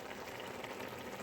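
Tomatoes and their juices tipped into a pan of palak beef curry, giving a steady, close wet sizzle and bubbling hiss that runs unbroken for a second or so.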